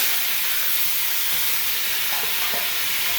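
Zucchini and yellow squash sizzle in a wok with a steady, close, hissing fry that holds even throughout, with a couple of faint clinks near the end and no talk.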